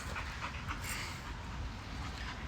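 A female dog panting softly and steadily while settling down, close by and fairly quiet.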